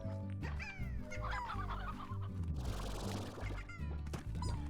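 Chickens cluck and squawk in the video game Slime Rancher over a steady looping music bed, with several overlapping bird calls and a dog-like yip in the mix.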